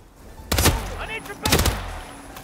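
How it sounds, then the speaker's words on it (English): Two loud bursts of gunfire in the Hitman video game, about a second apart, each a cluster of rapid shots ringing out over a low ambient bed with no one talking. "They'll know where those shots came from"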